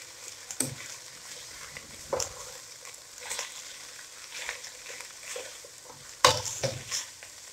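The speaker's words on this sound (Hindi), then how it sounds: "अभी चिकन को अच्छी तरह फ्राई कर लेंगे।" Chicken nuggets frying in a pan, a soft low sizzle broken by several sharp scraping and stirring bursts, the loudest near the end, with no voices.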